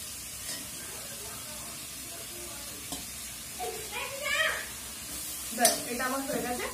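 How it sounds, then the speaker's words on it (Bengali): Spice paste for a shrimp curry fries in a pan, giving a soft, steady sizzle and bubbling. Brief louder hisses and stirring scrapes stand out now and then over a quiet background. "মশলাটাকে আমি ভালো করে কষিয়ে মশলাটা আমার ফুটে এসেছে"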